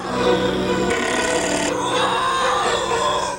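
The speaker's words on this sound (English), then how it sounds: "one of them must have had too much soda, cause there's a really good belch amongst the roars" A roaring alien creature lets out a long belch among growls and roars, a continuous loud, raspy vocal sound that shifts in pitch partway through.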